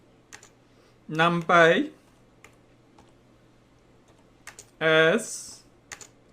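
Sparse, light keystroke clicks on a computer keyboard as code is typed, a few scattered taps between stretches of someone speaking close to the microphone.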